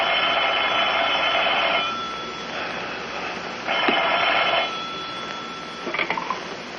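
An old-fashioned telephone rings in bursts of steady electric bell tone, one long ring then shorter ones with brief pauses between, fairly loud over a faint background hiss.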